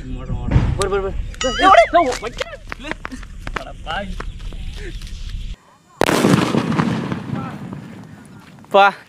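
Country-made black paper firecracker set off in a Diwali village, loud sharp blasts and crackling bursts amid excited talking and shouting, with a heavy burst near the six-second mark and a final pop.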